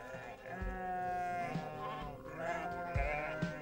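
Sheep roaming free on wide, flat Icelandic land bleat in several wavering calls, fairly close and clear against a quiet background.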